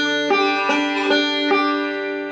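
Banjo picking a Scruggs-style riff, close and clear, a quick run of bright plucked notes ringing over a sustained drone with no talk.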